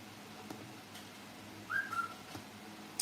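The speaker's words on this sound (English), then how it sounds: "Whistle." A person whistles a short two-part call, a quick rising note followed by a brief level tone, faint against a quiet background hum, with no one talking.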